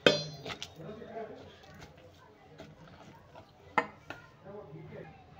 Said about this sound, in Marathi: आता थोडंसं चण्याला मॅश करून घेऊया।